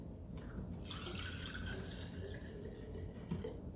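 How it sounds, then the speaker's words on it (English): Vinegar reacting with calcium, a soft, continuous fizzing and bubbling heard close up at low volume, with faint scattered pops. "It's already bubbling."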